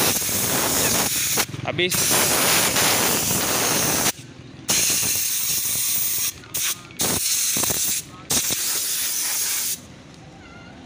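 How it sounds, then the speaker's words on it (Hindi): Compressed air is blown at a rusty part to clear off the rust, giving loud hissing blasts that start and stop in several bursts with short gaps between them, while someone speaks briefly. "जो जंग वंग लगा हुआ था ना वो सबसे पहले हवा मार के इस पर जो निकाल देंगे भाई"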